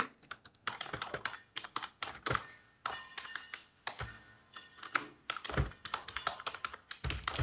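Computer keyboard being typed on while entering a permanent address in an online exam application, quick irregular clicks and taps in bursts, close and quiet with no voices.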